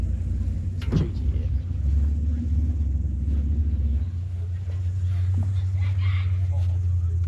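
A twin-turbo V10 Lamborghini Huracan idles with a deep, steady rumble close by at a drag-racing event, while voices talk over it and a brief knock sounds early on.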